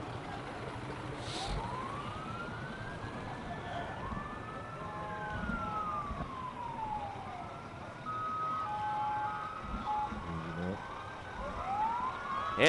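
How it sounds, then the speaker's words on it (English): Fire truck sirens at a holiday parade, including a 1924 American LaFrance, rising and falling in long slow wails, with overlapping horn blasts and whoops near the end, all over a busy outdoor crowd din. "we have several fire trucks from various communities in the region that were able to join the celebration today"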